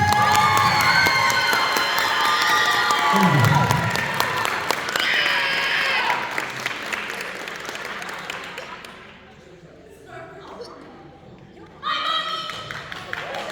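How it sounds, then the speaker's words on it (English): A crowd at a band banquet applauds and cheers for the guard members, loud clapping and shouts that fade out midway, then a fresh burst of noise near the end. "Another round of applause for our guard members."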